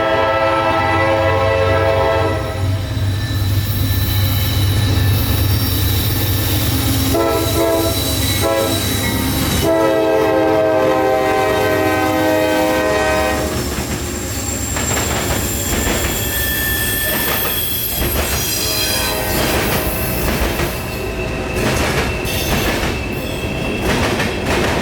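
An evening freight train on city rails passes close by, sounding loud sustained horn blasts over rumbling, clattering wheels and occasional squeals, the horn repeating before the train noise carries on alone.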